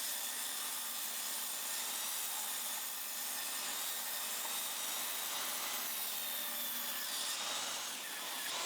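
Pallet wood planks being ripped on a power saw with push sticks, a steady, loud, continuous cutting whine with a dense rasp that holds almost unbroken throughout, with no talking.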